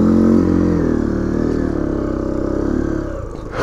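A motorcycle runs at full throttle through deep snow in freezing cold, a loud, sustained low engine roar close to the rider that holds steady before dropping off sharply near the end.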